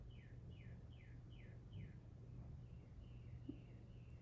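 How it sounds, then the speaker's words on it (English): A bird calls outside, giving a quick series of five evenly spaced descending chirps, then a fainter second run, distant and soft over a low indoor hum. "I hear the sound of the bird outside."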